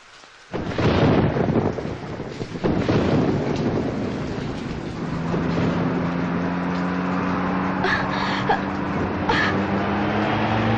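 A stormy night: rain roars in after a quiet start, with deep rolling thunder rumbling beneath a steady wash of heavy rainfall and gusty wind.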